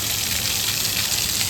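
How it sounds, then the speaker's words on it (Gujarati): Water tumbles down from a hillside near a temple in a brief, steady, full rushing gush, with no voices. "અત્યારે છે ને ડુંગરા ઉપરથી પાણી પણ પડે છે"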